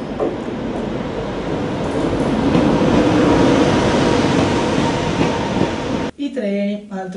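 A train running toward Chamonix rumbles along the rails with a steady rolling roar and faint clatter, then the noise drops away near the end as a voice briefly speaks.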